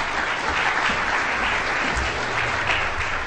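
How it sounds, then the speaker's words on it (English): Audience applause at a college debate on sexual assault, a dense, loud and continuous ovation of many hands clapping together, holding steady with no voices on top. "Can we have a round of applause for Dana, please"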